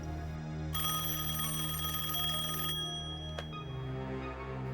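A telephone rings in a home, a bright electronic trill repeating for about two seconds over a low steady hum, followed by a brief click; no one speaks.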